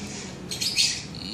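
Lutino parrot chicks squawking during hand-feeding, a short burst of shrill, raspy chirps rising over a quiet room background, close and brief.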